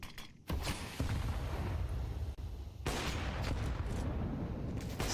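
Loud sniper gunfire from an AWP rifle in Counter-Strike during a competitive esports match, with sharp shot bursts and dense, sustained battle noise throughout.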